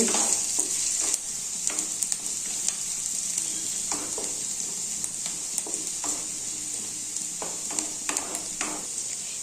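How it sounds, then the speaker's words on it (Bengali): Chopped onion fries in white oil in a kadai, giving a constant close sizzle with scattered light scraping and clicking as it is stirred. "পেঁয়াজটা ভাজা ভাজা হয়ে গেছে"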